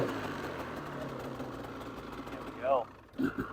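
A 2015 Polaris Pro S 800 HO snowmobile engine idles steadily throughout, with a couple of brief louder revs and knocks near the end.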